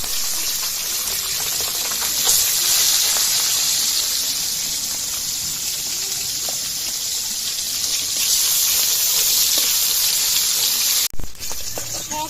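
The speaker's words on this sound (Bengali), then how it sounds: "মাছ ভাজাই হয়ে গেছে এখন নামিয়ে নেবো" Small chapila fish fry in oil in a pan for a curry with bitter gourd and potato, giving a loud, steady hissing sizzle that runs unbroken, with one brief clatter near the end.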